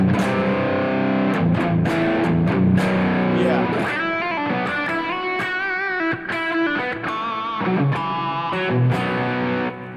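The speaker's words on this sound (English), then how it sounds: "good high gain lead tones out of the humbucker" Electric guitar through a humbucker pickup plays a high-gain lead tone, saturated and sustained notes with bends ringing out loud and alone, steady and unbroken for the whole stretch.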